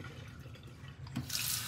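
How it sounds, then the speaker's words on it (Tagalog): Tap water runs steadily into a sink, splashing and gurgling as pork is rinsed under the stream, the flow growing brighter near the end. "hugasan lang po mabuti"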